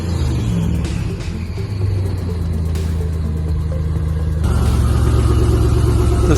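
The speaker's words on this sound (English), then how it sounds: "Every time it revs, you hear those Hellion turbos." A powerful car engine with a Hellion twin turbo kit rumbles at idle and blips its revs several times, growling louder toward the end with a faint turbo whistle.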